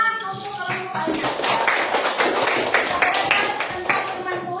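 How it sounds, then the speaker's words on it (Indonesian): A classroom of students claps for a student group, giving a short burst of brisk applause that rises and then settles, with a teacher's voice and children's chatter mixed in underneath. "tepuk tangan untuk kelompoknya"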